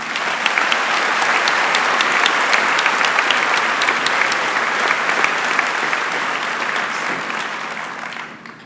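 A large crowd at a 2011 Wadsworth High School commencement applauds the valedictorian with dense, loud, sustained clapping that holds steady and then fades out near the end.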